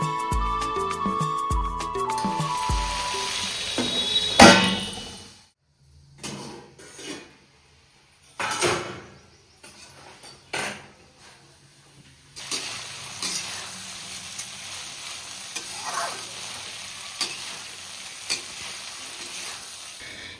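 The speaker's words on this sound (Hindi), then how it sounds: "अब अच्छे से इनको भून लेते हैं।" Boiled chickpeas with onion being roasted and stirred in a pan: bursts of sizzling and scraping spoon strokes, loud at first, then intermittent clatters and softer frying with pauses of near silence.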